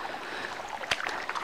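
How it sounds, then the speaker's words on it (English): Footsteps splash through shallow water in a canyon, with a sharp slosh near the middle and softer wading sounds around it, faint and close. "as you can hear, it's pretty much all water walking."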